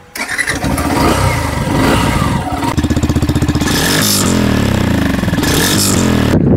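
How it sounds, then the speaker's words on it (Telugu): A Yamaha FZ-X V4.0 motorcycle, 2024 model, starts up and revs its engine, a loud, close mechanical roar that rises and pulses through repeated throttle blips and settles into a steady idle. "ఇంజన్ యొక్క ఆ రెవ్ కౌంట్ అయితే మీరు వినండి"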